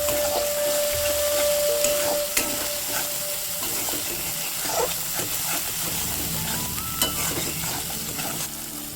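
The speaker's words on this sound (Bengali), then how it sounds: "মশলাটাকে ভালো করে কষিয়ে নেবো একবারে।" Spice paste for chicken curry sizzles and hisses steadily in hot oil while a spoon stirs and scrapes the pan, with occasional soft clinks, close and continuous.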